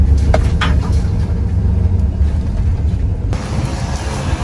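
A truck drives slowly over to the side of a building, its low engine rumble and road noise steady and close throughout, with a brief rattle near the start.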